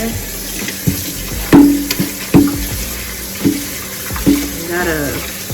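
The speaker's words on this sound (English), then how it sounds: "now I am going to rinse and clean the chicken with some water" Tap water runs steadily into a sink, with splashing and irregular knocks as raw chicken is rinsed and handled under the stream.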